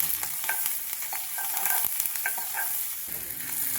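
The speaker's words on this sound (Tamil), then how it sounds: "அடுப்பை சிம்மில் வச்சு வெங்காயத்தை நல்லா வதக்கிக்கலாம்." Small onions and curry leaves sizzle in a hot pan over low heat while a utensil stirs and scrapes, with soft clinks throughout, no talking.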